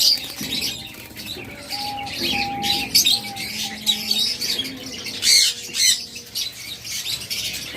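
Red Diamond pigeons at a market stall squawk and chirp in quick repeated calls, with bursts of flapping wings, close and fairly loud amid a busy background.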